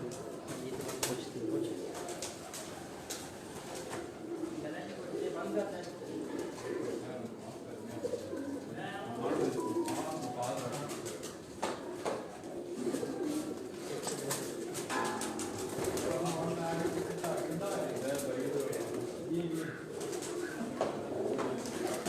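Code Commander breed pigeons on a rooftop in Sialkot, a dense flock cooing steadily throughout amid outdoor ambience, with soft wing flutters now and then.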